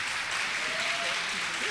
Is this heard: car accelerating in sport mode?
no